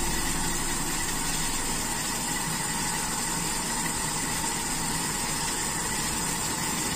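Toyota Kijang Super engine idling too low, a steady close-up hum and whir with constant vibration and no change in pitch, heard alone without talking.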